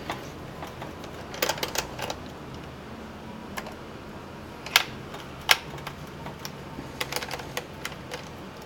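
Screws coming out of a Dell Inspiron 1525 laptop during disassembly: faint, sporadic small clicks and ticks of metal on plastic, close up, scattered over a quiet background with no talking.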